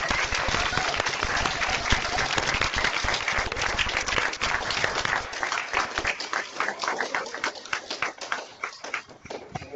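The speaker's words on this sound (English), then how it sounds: "join me in giving a warm round of applause to Pro Football Hall of Famer, Mr. Floyd Little." Warm applause for a Pro Football Hall of Famer at a remotely broadcast event, dense steady clapping from many hands that gradually thins out and fades toward the end.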